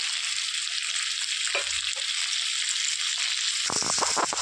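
Broad beans and mixed vegetables fry in a pan with a steady, close sizzle throughout, and a few louder stirring scrapes and clatters come near the end.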